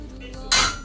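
A favourite wok handled on a stove gives a brief metallic clatter and scrape up close, with softer knocks before and after, alone.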